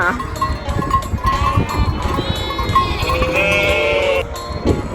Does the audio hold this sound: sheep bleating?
yes